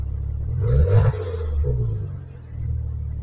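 A 2015 Maserati Ghibli S Q4 with 404 horsepower idles in park, a steady low engine rumble close by with a brief swell near the start and a smaller one midway, no talk.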